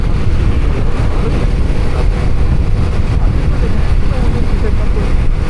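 Steady low rumble of a motorcycle engine with wind noise, continuous and loud throughout, as if recorded while riding on a foggy winter morning.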